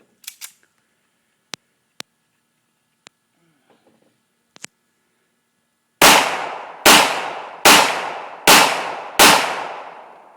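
Pistol shots from a 1911, Glock or Sig fired outdoors at a range: a few faint clicks first, then five loud sharp reports in a steady rhythm, each with a ringing decay.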